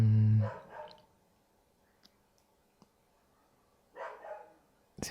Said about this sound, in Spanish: Justo se puso a ladrar un perro afuera.